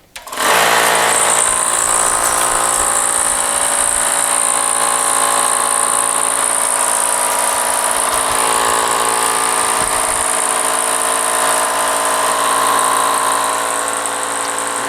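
A rebuilt Hitachi EC79 air compressor switches on and runs continuously, a loud, harsh, steady mechanical rattle and hum from motor and pump that holds unbroken as the tank builds pressure.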